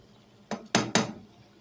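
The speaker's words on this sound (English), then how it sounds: "Give it another stir." Cranberry sauce with pink foam is stirred in a pot, three quick sharp knocks and scrapes of a utensil against the pot in close succession, with no talk.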